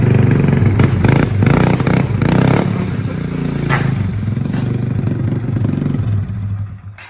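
A 2014 YCF 50 pit bike, kick-start model, sits running loud and close, its small engine buzzing and rattling steadily with slight surges, then fading near the end, no talk over it.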